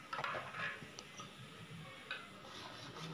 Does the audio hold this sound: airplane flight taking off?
no